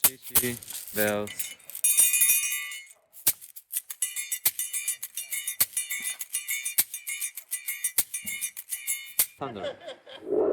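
Percussion bells played in a run of bright, shimmering metallic rings and jingles, close and clear, with brief talking at the start and end.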